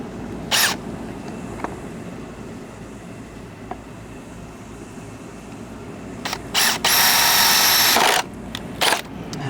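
A power drill bores 3/8-inch holes into a Gen3 Ford F-150 Raptor pickup, whirring in a short burst early on, then in two brief spurts and a longer sustained run near the end, over a quiet hum of background noise.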